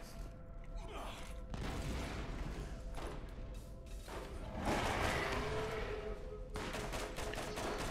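Rapid gunfire in the Borderlands video game comes as repeated bursts of shots, faint and mixed down, with players talking over the battle.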